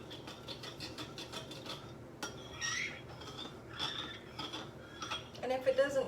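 A spoon stirs yeast into liquid in a bowl for homemade pizza crust, giving rapid, repeated clinks and scrapes at close range, moderately quiet and irregular.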